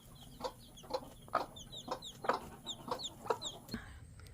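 Homestead chickens cluck in a steady run of short calls, with a rooster among the flock, heard at moderate distance with no talking.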